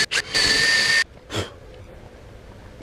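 A power drill whirs in a couple of short bursts and then one longer high-pitched run before cutting off, drilling a shallow shoulder hole for a boat outboard engine mount, followed by a brief rustle and quiet.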